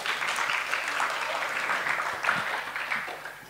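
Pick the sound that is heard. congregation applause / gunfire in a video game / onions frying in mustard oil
congregation applause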